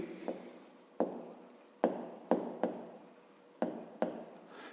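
Pen or chalk writing a math formula for a perimeter problem, close scratchy strokes coming in about seven short bursts, each starting with a tap and followed by rubbing, no talk.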